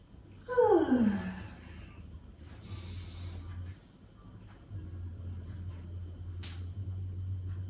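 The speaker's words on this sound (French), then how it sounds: "Vous pouvez bâiller." A person yawns aloud during a morning yoga stretch, a drawn-out falling vocal exhale near the start, followed by quiet breathing over a steady low hum.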